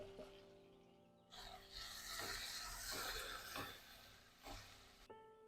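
Garlic, onion and chopped tomato are sautéed in a pan, a faint sizzle with bursts of stirring and scraping over a few seconds; no talking.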